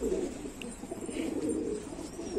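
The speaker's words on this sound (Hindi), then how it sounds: "तो देखिए कुछ नए कबूतर भी आए हैं," Pigeons cooing on a rooftop, soft low repeated coos in a continuous murmur with a faint higher chirp, close and steady.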